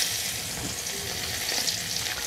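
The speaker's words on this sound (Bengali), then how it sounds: "মাছ ভাজার পরে যে অবশিষ্ট তেল রয়েছে তার মধ্যে এখন আমি দিয়ে দিচ্ছি পেঁয়াজ কুচি" Chopped onion sizzles and fries in oil left over from frying fish, a close, steady crackling hiss with no voices.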